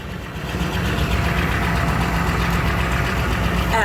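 A truck engine idles steadily after a fuel filter replacement, a loud, even, continuous rumble with a slight knocking texture throughout, heard alone without talk.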